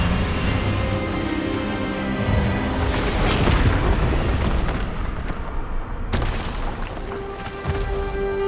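A spell effect from Hogwarts Legacy, the disarming charm Expelliarmus, rings out as a loud, sustained magical burst with booming, crackling energy that swells midway and then ends in a sharp crack.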